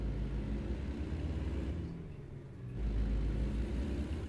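Kenworth truck in a truck driving simulator game, a deep continuous engine rumble close by that dips briefly in the middle, then swells back up as the truck pulls away.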